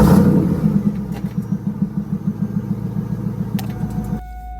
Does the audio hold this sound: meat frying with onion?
no